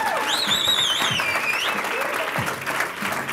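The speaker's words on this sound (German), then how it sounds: "Auch einen Applaus für Sarah!" A studio audience on a live TV show claps and whoops for the host's assistant, a short, loud burst of applause with cheering voices and a whistle-like cry riding over it.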